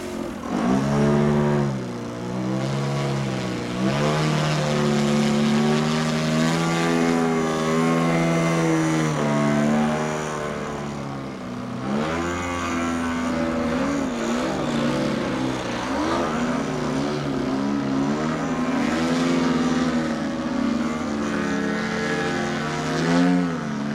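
A 35% scale RC model airplane drones loudly and steadily overhead, its engine pitch rising and falling as it flies past, with no talk over the sound.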